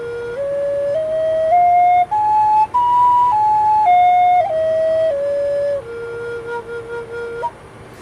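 A handmade Native American flute plays a slow stepwise scale up to a top note and back down, each note clear and breathy. The final low note wavers slightly, and no one speaks.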